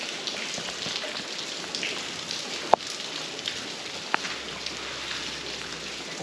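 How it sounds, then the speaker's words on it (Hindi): Steady rain falling in Naran Valley in November, a constant close patter on surfaces with a couple of sharp drip knocks, no talking over it. "बारिश हो रही है"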